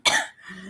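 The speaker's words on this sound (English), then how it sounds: "After I finish coughing again" A single sharp, close cough bursts out alone, followed by a brief softer rasp as the throat settles.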